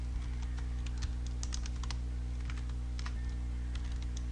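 Someone types code on a computer keyboard in quick irregular bursts of close, crisp key clicks over a low steady hum, with short pauses between runs.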